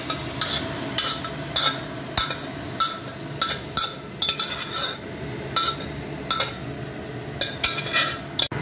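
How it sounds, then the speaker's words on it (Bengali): Boiled tarka dal is poured into a pan and stirred, with a steady sizzle under repeated scraping strokes of a spoon against the metal and occasional clinks, close and fairly loud, with no talk. "বয়েলড তরকার ডালটা অ্যাড করে দিচ্ছে"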